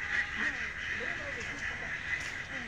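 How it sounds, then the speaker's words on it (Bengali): Duck quacks, a few short calls spread through the clip, moderately close, heard over steady outdoor background noise with people talking nearby. "এই যে হাঁস। দেখছেন হাঁস?"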